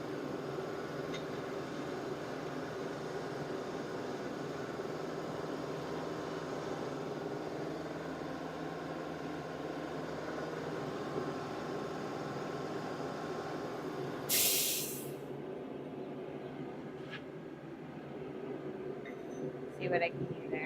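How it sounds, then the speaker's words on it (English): A blacksmith's forge roars steadily while an axe is being shaped. It holds a constant rushing blower drone that cuts off abruptly partway through, followed by a quieter hum and a few faint clinks. "Let's turn up the forge a little bit."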